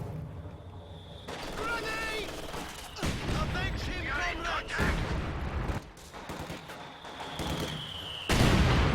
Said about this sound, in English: Oh, nice mortar shell there